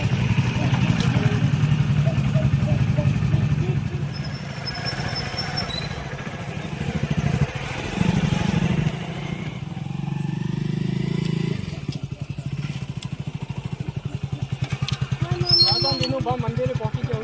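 A motorcycle engine runs steadily and fairly close, a low continuous rumble with some clatter, mixed under people talking throughout.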